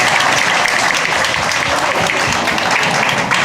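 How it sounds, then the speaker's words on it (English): Audience applause at a G6PD awareness campaign event, a loud, dense and steady wash of many hands clapping that holds evenly throughout without pause. "Just clap your hands as she comes."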